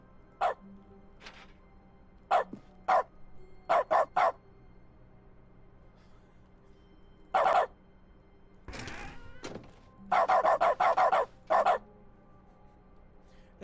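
A game dog barks in the Stanley Parable: Ultra Deluxe dog mode, short clipped woofs in scattered bursts and quick clusters, loud and close over a faint steady background hum, with no voices.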